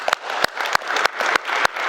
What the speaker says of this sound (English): Clap it up for yourselves for taking the time